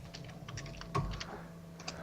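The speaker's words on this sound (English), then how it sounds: "At least we can hear you now. Keyboard and all." Typing on a computer keyboard in a podcast setup, a steady patter of key clicks with one louder thump partway through, fairly close and with no talking over it.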